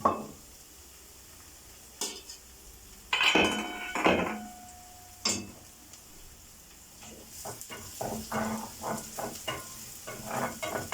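Onions sizzling in a pot with clattering utensil and pot clanks, a few sharp knocks early, then steady frying hiss with stirring scrapes.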